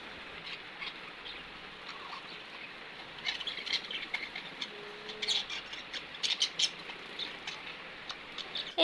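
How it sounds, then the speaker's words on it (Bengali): A pet bird in a home chirps in short, high, scattered bursts, denser in the second half, fairly faint over a low room hiss. "পাখিটা আপনাদের সাথে কথা বলে নিল"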